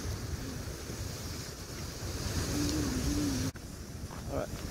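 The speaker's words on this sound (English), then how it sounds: "Yeah, look at the cool waves." Ocean waves at Makapu'u Beach in Hawaii, a steady roar of surf under strong wind buffeting the microphone, with a voice heard briefly.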